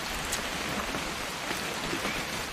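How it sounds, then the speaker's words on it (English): Steady rain pours down in the video game What Remains of Edith Finch, a dense, even hiss of drops on surfaces with scattered sharper patters, with no voices. "It's gonna rain the whole weekend, isn't it?"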